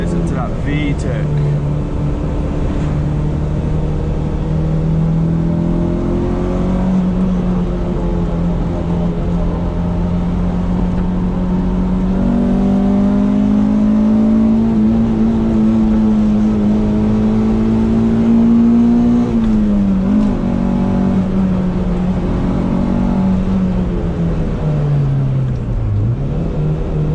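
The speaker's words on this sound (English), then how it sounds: "Listen to that VTEC." Honda Civic Type R EK9 VTEC engine revving during a drive in Japan: a loud, continuous in-cabin engine note that climbs steadily through the revs, dips at a gear change and rises again.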